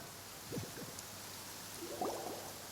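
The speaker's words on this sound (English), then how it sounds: "It's been raining non-stop." Rain in the video game Genshin Impact, a faint, steady hiss of falling rain that stays soft and even throughout, with brief low murmurs rising briefly near the start and again toward the end.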